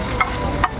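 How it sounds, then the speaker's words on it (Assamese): Chicken pakora frying in hot oil at a small food shop, a steady, close hiss of sizzling broken by two quick sharp clicks. "চিকেন পকৰাটো ভাজি আছোঁ।"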